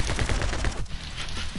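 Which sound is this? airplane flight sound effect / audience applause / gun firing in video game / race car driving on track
gun firing in video game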